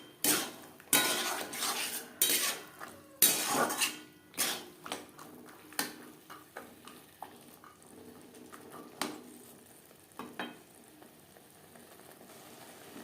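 Peas tipped into a pot of potato curry and stirred with a utensil: a run of close metallic clanks and scrapes against the pot, loud at first and then softer and more spaced out, with a faint bubbling underneath.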